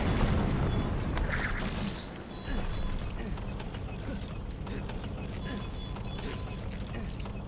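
Cannon mechanism in Monster Hunter World being swung and aimed, heard as creaking, ratcheting mechanical clatter over a dense rumbling game background, with a heavier clunk early on and steady busy noise throughout.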